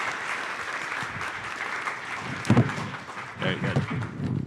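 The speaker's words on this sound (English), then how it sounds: "Can we get a round of applause for our panelists," Audience clapping for youth panelists runs steadily throughout, a dense patter of hands with a few louder thumps and cheers mixed in, and a voice speaks over part of it.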